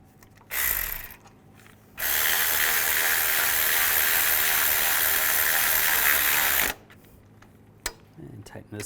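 A ratchet wrench tightens bolts on the serpentine belt tensioner of a 1998-2010 Volkswagen Beetle. A short burst of clicking comes first, then a long, steady, loud run of rapid ratcheting that stops abruptly.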